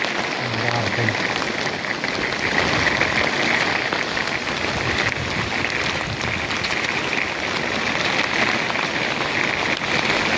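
Heavy monsoon rain pours steadily over farmland with cotton fields, a dense continuous hiss of drops beating on surfaces, close and loud with no break.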